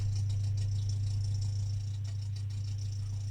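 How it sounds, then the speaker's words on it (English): Samsung WF washing machine running its eco bubble generator on an 80 RPM spin wash, a steady low hum with faint rattling and light ticks above it, continuous and fairly close, with no voices. "It would kick the eco bubble generator on with an 80 RPM spin wash."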